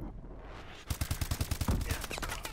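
Automatic gunfire in the PS4 shooter Call of Duty: Advanced Warfare during a free-for-all match, a rapid burst of about a dozen loud shots in quick succession after a brief quiet start.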